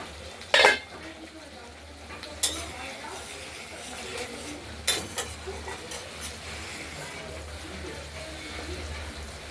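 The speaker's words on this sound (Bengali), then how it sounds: "মশলাটা কষানো হচ্ছে" Spice paste being sautéed for a katla fish curry, a low continuous frying hiss broken by a few clanks and scrapes of a spoon against the pot.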